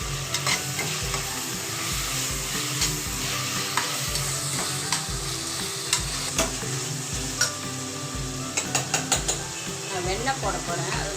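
Tomatoes and green chilies stirred and frying in a pan for chicken biryani in a pressure cooker, with a steady close sizzle and repeated scrapes and clinks of a spoon against the metal throughout.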